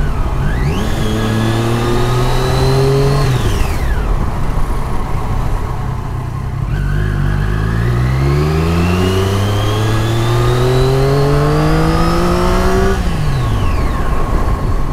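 A track-ready Triumph Daytona 675R motorcycle, ridden without a gear shifter, revs loudly and close up. Its pitch climbs and falls in several long sweeps with a short lull between.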